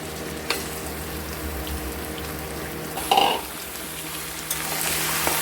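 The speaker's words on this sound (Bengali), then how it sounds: "এবার আমরা ধুয়ে রাখা চিকেনগুলো দিয়ে দেব।" Chicken pieces dropped into a pan over onions already fried deep red, giving a steady low sizzle with a brief louder hiss and splutter as the meat goes in, no talking.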